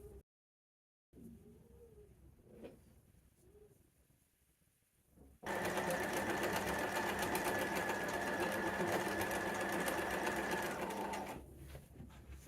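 A sewing machine stitches a sleeve into an upcycled hoodie, running loud and steady close by after a few seconds of faint quiet handling, with a brief pause near the end.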